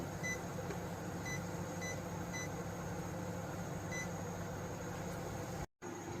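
Short high electronic beeps from a kitchen timer sound in small clusters over a steady humming background, fairly faint, then cut off abruptly.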